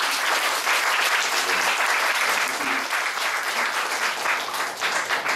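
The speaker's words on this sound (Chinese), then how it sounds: "哎，掌声。" An audience applauds at the close of an evening Q&A talk session, with sustained, dense clapping that fills the room and a faint voice underneath.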